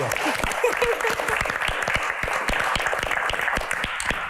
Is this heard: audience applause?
yes